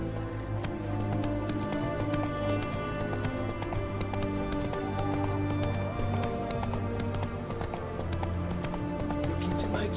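Roach the horse gallops in The Witcher 3: Hearts of Stone, a steady run of hoof clip-clops carried under continuous game music and background voices.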